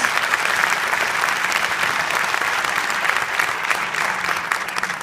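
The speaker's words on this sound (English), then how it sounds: "So a round of applause for all drummers here." A memorial audience in Detroit breaks into a sustained round of applause for drummers, a dense, even roar of many hands clapping throughout, loud and continuous with no speech over it.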